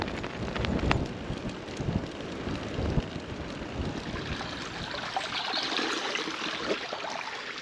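Rainwater running off fields after heavy rain near a level crossing, a continuous rushing, gurgling stream mixed with wind buffeting on the microphone, fairly close and steady throughout.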